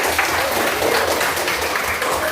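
A classroom of students applauds after a pupil's turn in an economics lesson, a steady wash of clapping filling the room at a fairly even level for the whole stretch.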